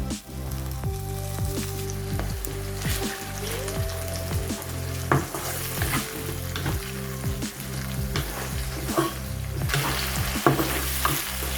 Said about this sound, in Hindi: टमाटर और सब्ज़ मिर्चें जो है वो भून रही हैं हमारी।